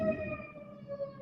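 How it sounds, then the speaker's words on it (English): A fire engine siren outside, a sustained wailing tone with clear harmonics that holds steady and carries from a moderate distance, with no talking over it. "That's a fire engine."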